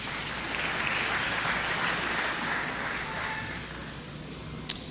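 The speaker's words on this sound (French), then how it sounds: "Acclamez la parole de Dieu." A church congregation applauds steadily for several seconds, a dense, sustained clapping that fades slightly toward the end and is capped by a single sharp knock.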